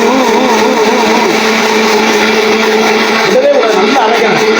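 A mixer grinder whirs loudly and continuously as it grinds tomato chutney, a dense steady motor roar held close throughout, with a slight shift in pitch near the end.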